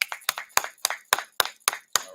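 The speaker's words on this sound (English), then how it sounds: "All right, clap it up." A small group clapping in a steady, even rhythm, about eight sharp claps over two seconds, close and fairly loud with no other sound between them.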